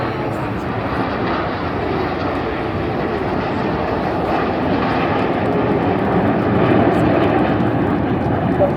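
Red Arrows jets roaring overhead through a rollback manoeuvre at the Blackpool Airshow, a steady, loud, broadband engine rush that swells slightly toward the end, with no pauses.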